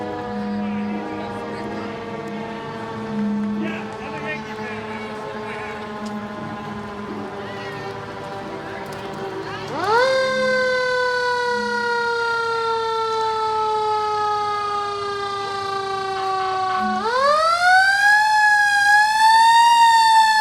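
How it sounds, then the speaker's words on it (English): A loud fire engine siren wails close by during a Fourth of July parade, its tone sweeping down slowly, then jumping up and rising again, with a low rumble underneath. "and then a noisy fire engine"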